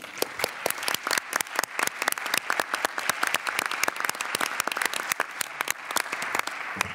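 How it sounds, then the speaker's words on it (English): Conference audience applauding at the closing session of the Zero Project conference: dense, steady clapping from a large crowd with sharp individual claps standing out, sustained throughout without talk. "a special applause also to Alice, who is sitting here in first row"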